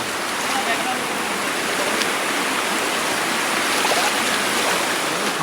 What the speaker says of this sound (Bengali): সামনে পানি বয়ে আসছে যেই যে হচ্ছে পাহাড় থেকে পানি বয়ে আসবে